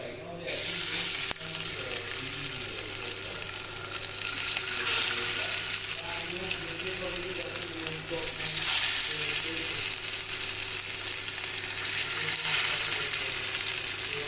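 Aloo tikki potato patties, a second batch, frying in a shallow layer of oil: a steady, close sizzle that runs continuously with slight swells, alone without talk.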